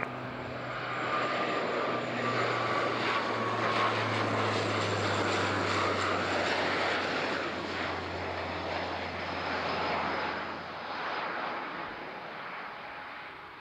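A fixed-wing aircraft lands on runway 14 at Zurich airport, its engine roar loud, close and steady for the whole stretch before easing slightly near the end.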